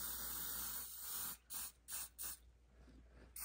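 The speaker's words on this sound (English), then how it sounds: "So I'm using the hairspray and I'm fluffing up the fur" Hairspray hisses onto craft fur for a Grinch wall hanging: a long, close spray followed by three short, quick bursts, then quiet.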